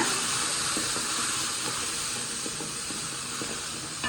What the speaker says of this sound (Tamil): பூண்டை போட்டுக்கலாம் பூண்டு போட்டு நல்லா ஒரு வதக்கு வதக்கணுங்க